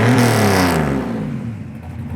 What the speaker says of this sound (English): Today we're going to check out and take for a test drive this 1987 Buick Grand National